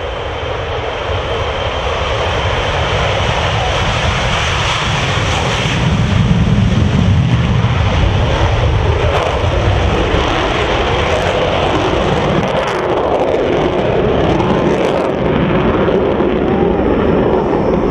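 An Avro Vulcan bomber's jet engines on takeoff at an air show, a loud, sustained roar with a broad rushing hiss that swells midway and holds steady throughout, no voices.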